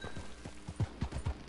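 Horse hooves in the Red Dead Redemption Online western game clip-clop in a quick, uneven series of about seven sharp thuds, close and fairly clear.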